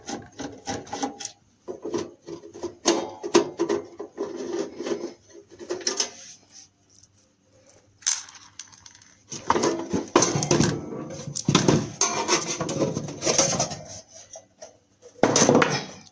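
Screws and metal panels of a 200 amp MMA welder's casing being worked loose and opened, with close rasping, scraping and rubbing in bursts, a brief pause, then louder handling clatter toward the end.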